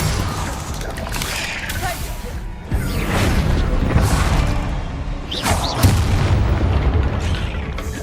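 A Confringo blast spell fired in the Hogwarts Legacy video game, heard as deep booming thuds over a dense game soundscape, with a stronger hit near the three-second mark and another around six seconds.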